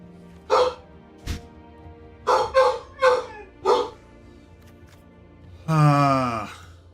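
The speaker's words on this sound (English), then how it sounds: "yeah, my dog's barking right now." A pet dog barks in a short indoor series: one bark, then a quick cluster of four, and finally a longer drawn-out howl-like yelp, close and moderately loud with quiet gaps between.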